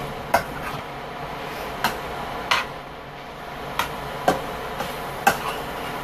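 Flour cooks in a pan while a utensil stirs it, giving a few sharp, separate metallic scrapes and taps against the pan over a low, steady background hiss, with no talking.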